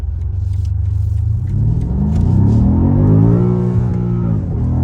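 A BMW M5 Competition accelerating hard in second gear, its engine note rising steadily from a low rumble to a loud, strained roar, then dipping briefly as the gearbox shifts, heard close from inside the car.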